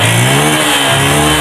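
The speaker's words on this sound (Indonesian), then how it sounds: "Dan juga gas motornya juga udah normal teman-teman ya, udah enteng." A Yamaha Jupiter MX motorcycle engine, restored to normal running, revs steadily and loudly close by, with a continuous mid-pitched drone and no talking.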